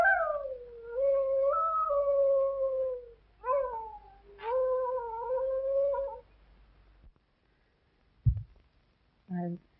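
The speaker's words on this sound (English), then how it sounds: "I wish you'd stop that awful howling." Dog howling in an old Western film, several long, wavering, mournful howls that rise and fall with brief pauses, followed by a short thump and a small yelp near the end.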